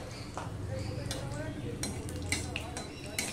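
Black cumin seeds hit hot mustard oil in a pan and crackle and sizzle softly and steadily, with light utensil clinks and a voice talking over it.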